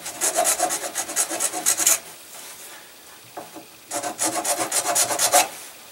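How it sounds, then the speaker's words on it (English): A triangular file rasps across a PVC bow in two bursts of quick, rhythmic back-and-forth strokes, close and fairly loud, separated by a short quieter pause. "I just took my triangular file, widened it up a little bit, passed it through there, curved it around a little bit"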